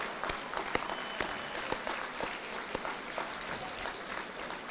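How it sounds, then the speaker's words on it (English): An audience at a school district Teacher of the Year ceremony applauds a sponsor, giving steady, moderately distant clapping with a few sharper individual claps standing out over about five seconds. "So if they could stand, we give them applause."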